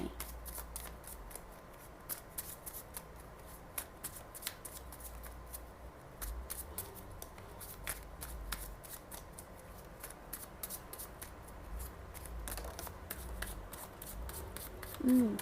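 Tarot cards are shuffled by hand in a quiet room, giving a steady run of soft, close riffling clicks and flicks for about fifteen seconds, with no talking.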